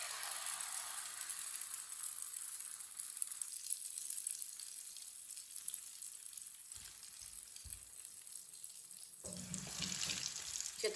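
Spices hitting hot oil in a pan give a steady broadband sizzle with crackly frying texture, fairly quiet and continuous, swelling a little louder toward the end.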